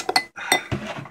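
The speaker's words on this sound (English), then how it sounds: "first thing we do is stir it really well" A metal spoon clinks several times against a glass while stirring an ice cream frappe, three or four quick bright taps close by with no talk.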